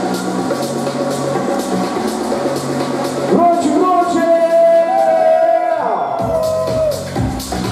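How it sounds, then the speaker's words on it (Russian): Crowd at a tattoo festival award ceremony claps and cheers loudly, a sustained swell of applause with whoops over a steady babble, while a host's amplified voice talks through it. "Аплодисменты"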